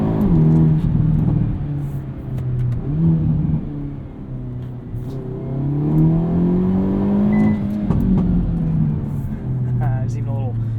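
A 2022 Hyundai Elantra N with a dual-clutch gearbox, driven in N Grin Shift mode, drones steadily from its engine and exhaust while faint, scattered pops and burbles break through close by.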